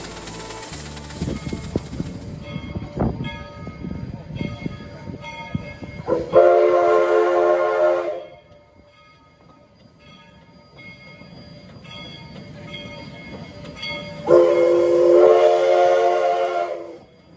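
Restored Denver and Rio Grande Western 315 steam locomotive, with a rumbling, chuffing engine nearby and two loud, sustained steam whistle blasts, the second after a quieter stretch.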